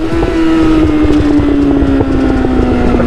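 Steady, loud engine drone from a Suzuki GSX-R600 or GSX-R750 motorcycle exhaust, with a sustained low exhaust note, slightly falling in pitch, continuous throughout.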